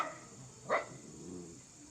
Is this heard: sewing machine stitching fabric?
no